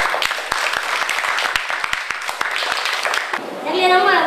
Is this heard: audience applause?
yes